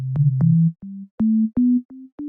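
A series of pure electronic sine tones, each with a clicky onset, stepping slightly upward in pitch across about eight short beeps.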